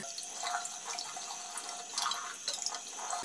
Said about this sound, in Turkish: Bir de mürekkep pedi haznesini yıkamak istiyorum. Elimiz değmişken bunu da yıkayalım.